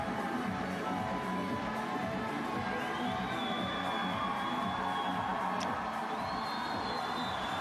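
A large gymnastics arena crowd at the 2015 European Games cheers and shouts steadily throughout, with a dense roar of many voices and occasional whistles, loud and sustained.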